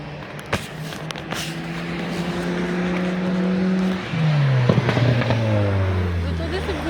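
A car engine revs up in long rising and falling sweeps, swelling louder toward the middle before easing off, with a second strong rev near the end.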